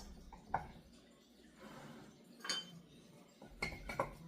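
A knife cuts through a baked spinach, ham and bacon quiche with several sharp, scattered clinks of metal on the dish, quiet and close, with soft rustling between the taps.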